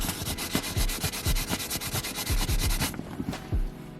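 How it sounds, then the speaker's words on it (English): Microfiber towel rubbed briskly over cleaner on sanded, damaged car leather, a close, steady scrubbing with rhythmic back-and-forth strokes that ease off near the end. "I'm just putting some of the cleaner on a microfiber towel and just rubbing it out."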